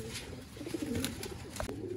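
Sialkoti Ali wale breeder pigeons coo softly and steadily against a constant background hum. A low, rolling cooing phrase runs through the whole short stretch, with no talk.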